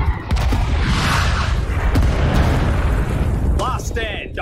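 Artillery explosions in the Rising Storm 2 Vietnam video game produce a heavy, continuous rumbling roar, loud and close, and a voice can be heard briefly near the end.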